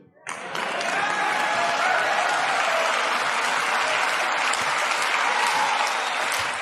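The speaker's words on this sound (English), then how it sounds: "the crowd is erupting, and he's allowing them to clap" A large crowd bursts into sustained, loud applause at a speech, the clapping swelling within the first second and holding as a dense, even roar.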